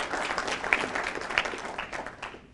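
A Rotary club audience applauding at a cancer support talk, a brief burst of many hands clapping that fades out toward the end.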